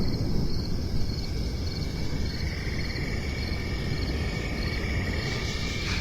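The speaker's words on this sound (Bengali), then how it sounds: "রাস্তার পাশ দিয়ে জঙ্গল থেকে ঝিঝি পোকার এক টানা ডাক" Crickets chirp in a steady, unbroken drone from the jungle beside a muddy rural road. The sound is even and moderately faint, with no talk.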